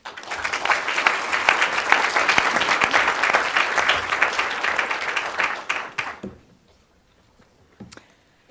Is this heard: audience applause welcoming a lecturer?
yes